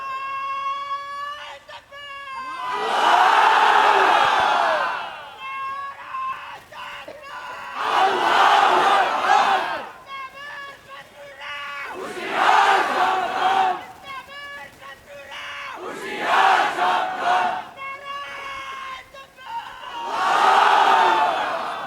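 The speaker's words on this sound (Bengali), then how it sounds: "একটু একটা স্লোগান দেন দেখি" A large crowd at an Islamic religious gathering chants a slogan in loud, repeated bursts. Each roaring chorus lasts a few seconds and alternates with quieter gaps in which a lone voice leads.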